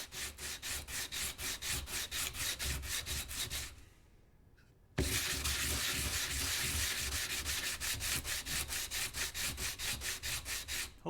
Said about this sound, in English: probably need to sand these exposed edges.